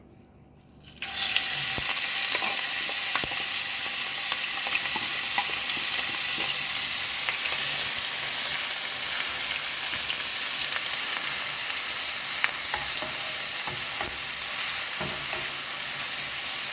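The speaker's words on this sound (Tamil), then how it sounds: "நல்லா வதக்கிக்கிங்க இந்த வெங்காயம், இஞ்சி, பூண்டு எல்லாத்தையும்." Onion, ginger and garlic sautéing in a pan with bay leaf for chicken black pepper curry: a loud, steady sizzle that starts abruptly as they hit the oil, with occasional stirring clicks, no voices.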